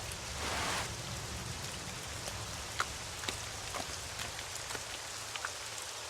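Steady rain falls on surfaces in a video game, a dense even patter with a few sharper drops standing out, heard alone without voices.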